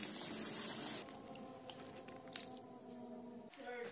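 Hawthorn berries being rinsed by hand in a basin of water, with soft splashing and squishing, a brief louder slosh at the start, then quieter dripping and stirring.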